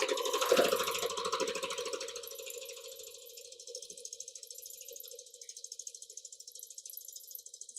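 Regular home sewing machine free-motion quilting a large quilt, its motor running in a steady rapid needle rhythm that stays up close and fairly quiet, with no talk.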